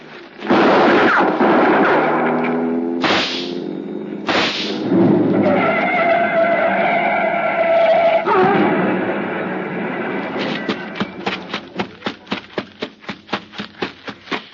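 Gunfire in an old-time radio detective drama: several loud shots and bursts crack close by, followed by a rapid rattling series of pops.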